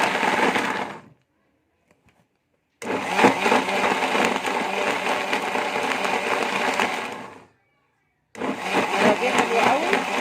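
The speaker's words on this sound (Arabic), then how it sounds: "هنضربه بقى في الخلاط مع بعض كده" A kitchen blender whirs through hot boiled lemons in two long, loud bursts separated by a brief silent pause, then starts up again.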